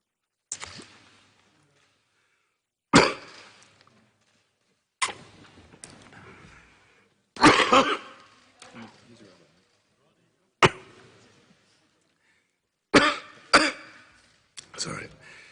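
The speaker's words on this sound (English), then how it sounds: "after suffering a coughing fit in Parliament that left him breathless and reaching for water" A man coughs in sharp, harsh bursts separated by pauses, some clustered in quick pairs, close and loud against a quiet room in Parliament.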